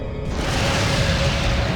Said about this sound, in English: That incendiary grenade put in more work than any other weapon in the entire game